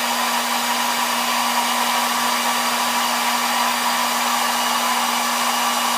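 Heat gun blowing with a steady, loud whir and a constant hum while warming the glass screen of a Samsung Galaxy Note 2 phone during screen replacement, running alone and unbroken throughout.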